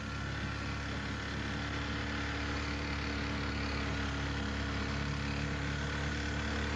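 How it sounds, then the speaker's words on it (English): A boat's outboard motor runs in an alligator refuge, making a steady, continuous engine drone that stays at an even level throughout with no breaks. "Let's cut off the engine for a minute and get some peace."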